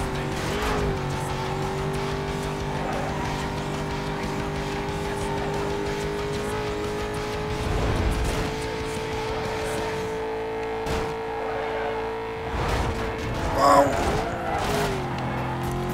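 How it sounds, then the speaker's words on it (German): A Corvette racing in the video game Need for Speed Most Wanted, its engine droning at a loud, steady pitch with shifting revs and occasional tire squeal, close and continuous, with no talk over it. "Die Corvette fährt verdammt gut."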